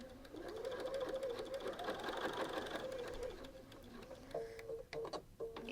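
A sewing machine chain-pieces fabric, running in a steady fast mechanical purr for about four seconds before stopping, followed by a few faint clicks and handling sounds.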